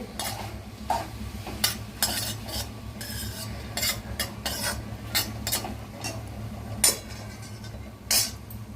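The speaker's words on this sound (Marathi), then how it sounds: "ते फ्राय करायचे बारीक गॅसवरतीच ते करायचं आपण व्यवस्थित परतून घ्यायचे ते" Dry fruits stir-fried in a pan over a low flame for vermicelli kheer, a quiet steady sizzle broken by repeated metallic spoon scrapes and clinks against the pan, close and alone.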